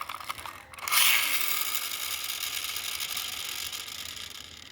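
Diecast Centy Toyota Innova toy car with its pullback mechanism being wound, giving a close, steady ratcheting buzz that starts abruptly and runs continuously for several seconds.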